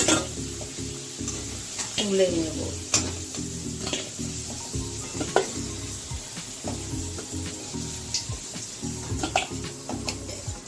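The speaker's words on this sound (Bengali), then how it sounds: "দেখুন আলু ভাজা হয়ে গেছে।" Potatoes frying in hot oil in a pan, with a steady sizzle and repeated scraping stirs of a utensil close up, and a brief spoken phrase over it.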